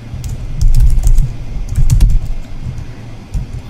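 Rapid typing on a computer keyboard, with irregular bursts of close, crisp key clicks running throughout and no talk.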